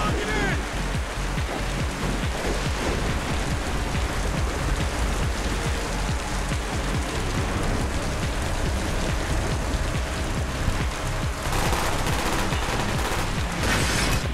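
Dense, continuous gunfire from many directions in Call of Duty Black Ops, a loud, sustained barrage of rapid shots with no clear gaps, heard without speech.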